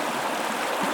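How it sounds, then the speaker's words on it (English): Crown Creek in Kings Canyon flows steadily, a close, continuous rush and babble of water with no voices. "Been hanging out down here at Crown Creek for about the last hour."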